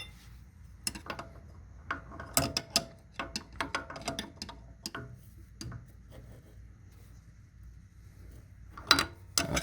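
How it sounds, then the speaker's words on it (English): A spanner wrench turns the suspension locking ring on an Infiniti Q50/Q60 coilover, giving scattered metallic clicks and ratcheting knocks in irregular bursts, close by and fairly quiet. "you take your spanner wrench and you're gonna unlock this locking ring"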